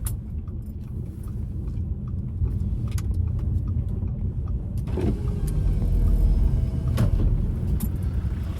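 A diesel car pulls into a car park, its engine rumbling steadily up close, with a few light clicks and knocks over the drone.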